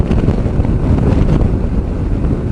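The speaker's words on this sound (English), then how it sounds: "Got buffeting coming from both the vehicles in front of me." Steady, loud wind roar buffets a Honda CB500X on the highway at about 110 km/h behind two vehicles, a dense low rumble with no distinct breaks for the whole stretch.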